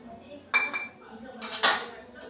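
Spices with curry-leaf powder, turmeric, garam masala and red chilli being pounded in a kitchen mortar, two loud ringing metallic strikes about a second apart with faint background noise between.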